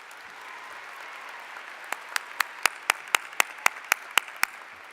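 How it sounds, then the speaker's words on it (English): At a university commencement, a soft crowd murmur gives way to a run of about a dozen crisp, evenly paced claps from one nearby pair of hands, with fainter clapping behind. "Can we give all of them a round of applause?"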